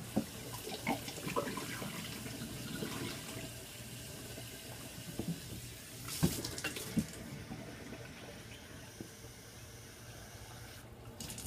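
Tap water runs steadily through a glass rig being cleaned, with continuous splashing and some irregular sloshing and clinking. No voices are heard.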